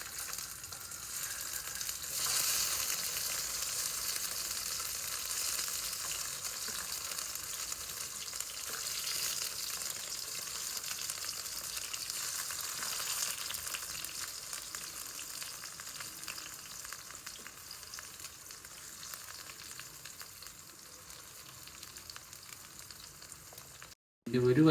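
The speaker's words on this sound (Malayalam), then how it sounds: "വെളിച്ചെണ്ണ ചൂടായിട്ടുണ്ട്. നമുക്ക് ഈ ടൊമാറ്റോ ഒന്ന് ഫ്രൈ ചെയ്തിട്ടെടുക്കാം." Tomatoes fry in hot coconut oil on a tawa with a loud, steady hiss of sizzling oil that holds for over twenty seconds. The sound then cuts off abruptly with a brief bump of noise, and no one talks.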